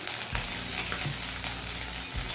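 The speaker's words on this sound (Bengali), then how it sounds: "আমি হালকা হাতে নাড়াচাড়া করে মাছগুলো ভেজে নিয়েছি" Small kachki fish sizzle steadily in hot oil while being stirred, with occasional scraping clinks in the pan, close and continuous.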